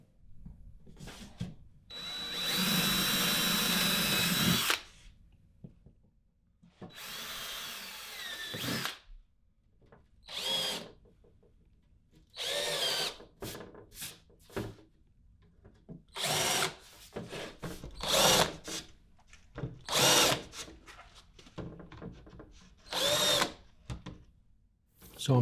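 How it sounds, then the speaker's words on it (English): A power drill whirs in repeated bursts while pre-drilling holes in wood, a long run first and then many short pulses, close by with pauses of quiet between them. "So I'm pre-drilling the holes now."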